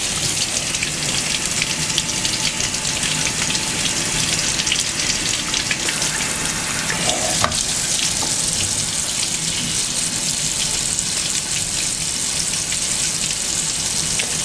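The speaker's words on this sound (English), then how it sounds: "Now I'm going to rinse the mustard." Tap water rinsing mustard off an epoxy kitchen countertop, a steady rushing splash that runs unbroken and fairly close, with no talking.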